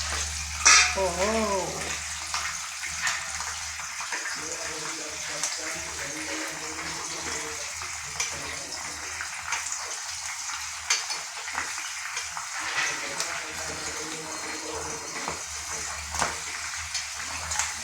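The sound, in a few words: chillies added and frying in pan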